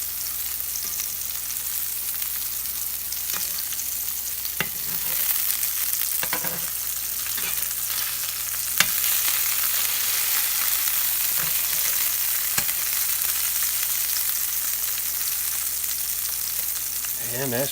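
Meat frying in a cast iron skillet, a loud, steady sizzle that runs throughout, with occasional sharp clicks and scrapes as the meat is moved around the pan.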